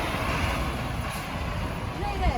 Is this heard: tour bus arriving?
yes